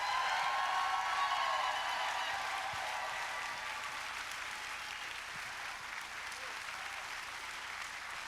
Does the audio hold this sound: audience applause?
yes